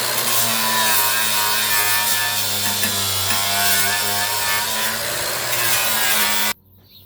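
An abrasive wheel on a power tool strips paint from a car body panel, a loud, continuous grinding whine with a steady tone held for about six seconds before it cuts off abruptly.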